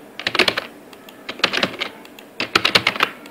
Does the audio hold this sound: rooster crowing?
no